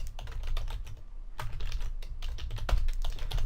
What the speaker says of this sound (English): can't type right now